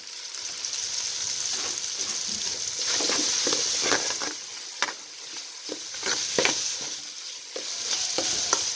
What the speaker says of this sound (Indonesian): Nah, saiki ganti digoreng bumbune, guys. Digongso maning, guys.